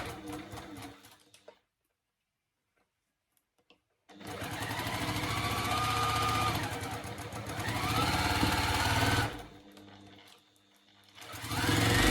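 A sewing machine stitches a jelly-roll quilt block made of cotton quilting fabric, its steady, close mechanical whir running for several seconds, pausing briefly, then starting again after a quiet start.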